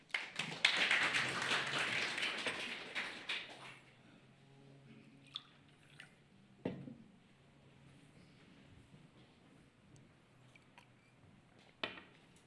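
A short burst of audience applause at a Reykjavík city planning meeting about the Hlíðar neighbourhood, fairly soft and fading out within a few seconds into near silence with only scattered faint clicks.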